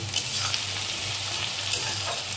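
Tomatoes added to onions frying in a pan make a continuous hissing sizzle, close and steady, with faint stirring and no talk.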